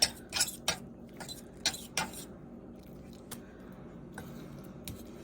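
A spoon clinks against a bowl while a cracked egg and banana mixture is stirred, with a few quick scraping taps early on that thin out into quieter, sparser clicks.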